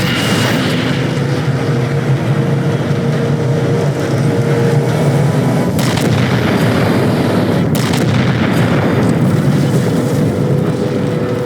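A warship in a Halo 4 cutscene fires on its target, with heavy booming blasts and rumbling, sustained roar dense throughout, loud and close with no voices.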